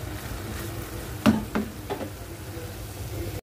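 Spicy shrimp and eggplant vegetables fry in a pan with a steady low sizzle, broken by a few sharp knocks of a utensil against the pan partway through.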